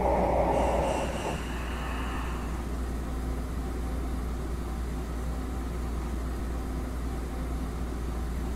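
A subway train in the OpenBVE simulator rumbles steadily with a low, constant drone, after a brief higher mechanical whir fades out in the first second.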